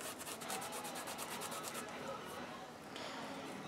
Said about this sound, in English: I'm just going to press that in, rub my finger along it a little bit.